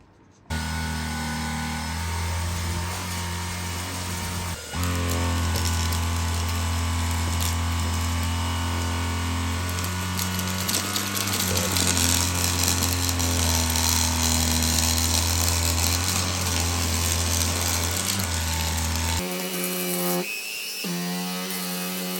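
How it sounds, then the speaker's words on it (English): Steady loud motor whine of an Agaro Supreme cordless vacuum cleaner running continuously, with rattling and scraping of biscuit crumbs, briefly changing pitch near the end. "let's see how this vacuum cleaner performs"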